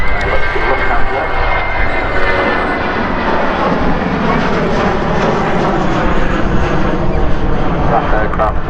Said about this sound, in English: The runway, we have Airbus A321 100.